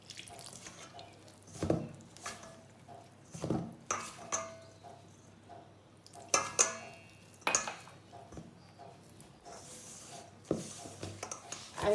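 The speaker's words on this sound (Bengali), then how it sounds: "আমি মাখছি" Butter naan dough of flour and water being kneaded by hand, with irregular wet slaps and squishes, soft knocks against a bowl, and small clinks close by, steady throughout with no talking.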